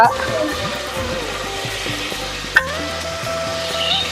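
Mustard seeds and cumin frying in hot oil in a kadai, a continuous close sizzle with light stirring and a faint clink, a voice talking over it.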